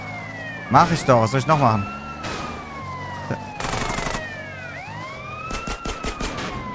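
An ambulance siren in GTA San Andreas wails in rising and falling sweeps that carry on throughout. Bursts of gunfire and loud game noise break in over it, and someone talks over the mix.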